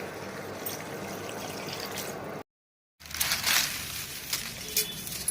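Water pours into a pot of mutton curry, a steady gushing and splashing close by that is cut off by a brief silence and then resumes with bubbling and trickling.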